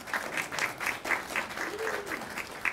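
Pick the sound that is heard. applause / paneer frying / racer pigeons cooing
applause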